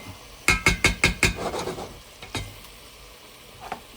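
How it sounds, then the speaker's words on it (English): Duck bhuna being mixed in a pan: a quick run of five sharp metallic spoon knocks against the pan, then softer scraping over faint sizzling and a few scattered taps, close and fairly quiet, with no speech. "mix it well"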